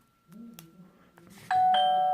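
A Friedland 48250SL wireless doorbell, its transmitter just repaired, sounds a bright, loud chime that starts sharply and rings on steadily with sustained tones, after some quieter handling noises.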